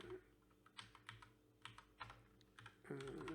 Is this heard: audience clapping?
no